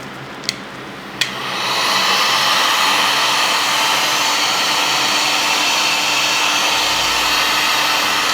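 Heat gun switched on with two sharp clicks, then a steady loud blowing roar as it warms yellow vinyl wrap on the daytime running lights of an ND Mazda MX-5.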